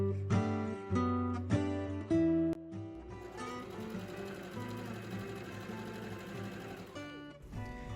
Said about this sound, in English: now I am sewing the right sides together